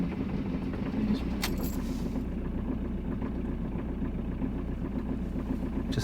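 Diesel van engine starting and running in the cold, about minus five degrees, in snowy Spanish mountains: a steady low, rough idle throughout, close and fairly loud, with a brief jingling rattle near the start and no talk.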